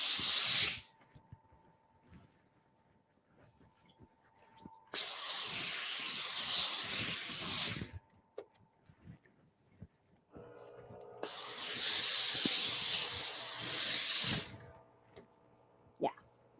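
A steam iron releases two long bursts of loud hissing steam while pressing a quilted tweed skirt, each lasting a few seconds, separated by near silence and faint handling sounds.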